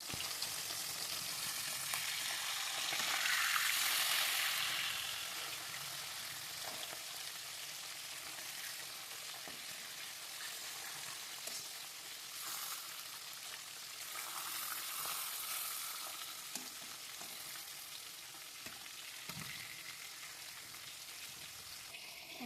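Hilsa fish sizzles in hot oil in a pan, a continuous soft hiss with occasional crackles and pops, swelling briefly early on and then holding steady, with no one speaking.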